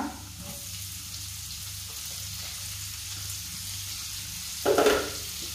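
Finely chopped onion frying for Goan-style pav bhaji, giving a steady, fairly quiet sizzle with a brief louder stir or scrape near the end, no voices.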